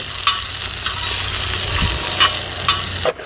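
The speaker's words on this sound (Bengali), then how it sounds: "পাঁঠার ঠ্যাংগুলো হালকা হালকা করে ভাজা ভাজা করে নেব।" Goat legs frying in hot oil in a wok, a loud steady sizzle with occasional stirring scrapes and clinks, close and without talk, ending abruptly.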